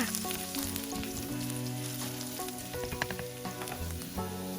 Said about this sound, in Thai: ผัดกระเทียมให้ส่งกลิ่นหอมตลบบ้านไปเลยค่ะ